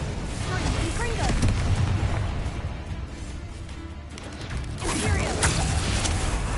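Explosive, rumbling spell blasts from Confringo fire spells in the game Hogwarts Legacy, loud and continuous with booming bursts over a dense roar of combat effects, and a voice shouting spell names.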